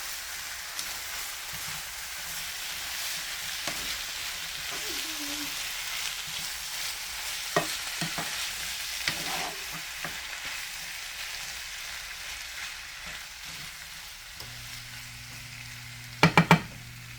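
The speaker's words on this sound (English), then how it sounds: "Let me go ahead and stir this together." Food being stirred in a pan over a steady frying sizzle, with occasional scrapes and light knocks and a few sharp clinks near the end, fairly quiet with no voices.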